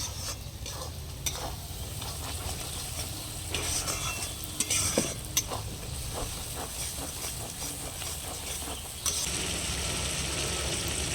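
Goat meat masala with sugar fries and is stirred in hot oil, making a soft continuous sizzle broken by scraping and clattering strokes of the spoon, fairly quiet and with no talk.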